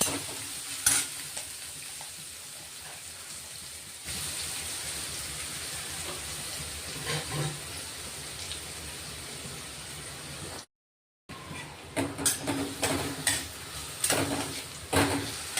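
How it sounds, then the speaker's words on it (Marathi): Finely chopped onion sautéing in hot oil for a spicy peanut amti gives a steady, close sizzle with stirring scrapes, broken once by a brief gap. "कांदा घेतलाय, बारीक करून घेतलाय चॉपरला, चांगला परतून घ्यायचा आता आपण तेला"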